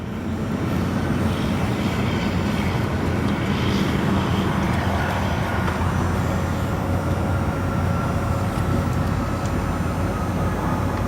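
Jet airplane landing at Chicago O'Hare airport: a sustained, loud rumble of engines and rushing air, steady for the whole stretch, with a faint tone running through it and no voices.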